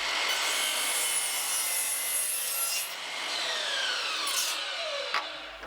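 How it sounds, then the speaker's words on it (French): A saw blade makes a second 45-degree angled cut through a wooden board, producing a loud, continuous rasping drone for about five seconds before it stops. "on va devoir positionner la lame de manière à faire une deuxième coupe"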